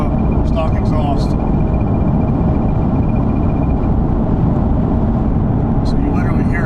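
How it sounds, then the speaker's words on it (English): A steady, loud low drone of engine and road noise from inside a supercharged car cruising at 80 mph with windows up and stock exhaust, with faint voices now and then. "There's an 80 cruise, windows up, stock exhaust."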